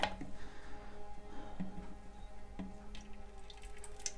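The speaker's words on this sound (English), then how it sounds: "So we're gonna add the water" Water being poured carefully into the tank of an AnyPro humidifier, a faint liquid trickle with a few small drips and knocks against plastic, close and steady without talk.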